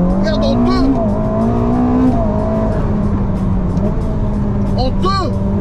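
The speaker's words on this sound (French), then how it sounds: "C'est la Ferrari la plus puissante de l'histoire." A Ferrari SF90 supercar's engine roars loud and close, pitch climbing in steady pulls with a couple of sharp tire chirps, while people talk over it.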